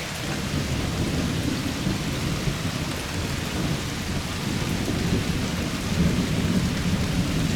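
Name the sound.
rain and thunder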